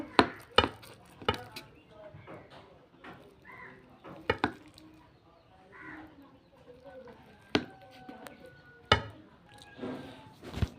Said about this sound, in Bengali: এবার পিস পিস করে কেটে নেব